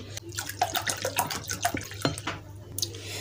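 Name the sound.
water being poured into pani puri spice mix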